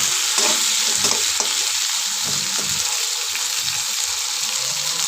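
Sautéing food in hot oil, steady close sizzle and crackle of frying with scraping strokes of a spoon stirring through the pan, continuous with no talk.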